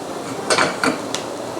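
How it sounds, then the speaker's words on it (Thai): A spoon stirring chopped onion and butter in a pan for chicken nuggets with barbecue sauce, a few close metallic scrapes and clinks over faint background hiss. "ระหว่างนี้นะคะเราก็พยายามคนนะคะ ให้ตัว หอมขาวเนี่ย เขาโดนความร้อนแล้วก็เนยให้ทั่วนะคะ"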